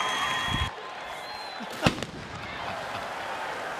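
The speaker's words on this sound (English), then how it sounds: "now they can fire off the cannon because the touchdown stands" Cannon fired after a touchdown in the NCAA Football 2025 video game, Northern Illinois at Ohio: a single sharp boom near the middle, set against stadium crowd noise and brief broadcast-style sounds.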